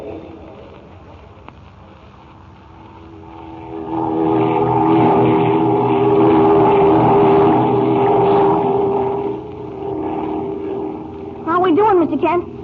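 A buzzing propeller airplane engine drones and swells, growing louder as it passes, then tapers off before a voice speaks at the end.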